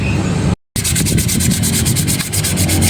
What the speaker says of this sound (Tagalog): kunin mo yung liha doon